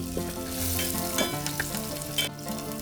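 Crushed garlic, curry leaves and green chilies hitting hot oil with cumin, a loud, close crackling sizzle with spattering pops and a few utensil scrapes, continuous throughout with no voices.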